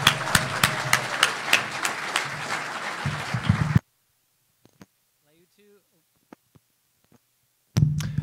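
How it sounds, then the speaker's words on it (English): At a charity shelter event, an audience claps loudly for a young girl, with a few sharp individual claps standing out, then the sound cuts to near silence before a brief return at the end. "And give her a big round of applause."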